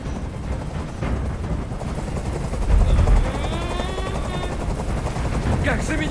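In the Detroit: Become Human video game, a helicopter hovers overhead with a steady, heavy rotor thrum that swells in the middle. Sharp bursts resembling gunfire sound underneath, and voices talk over it.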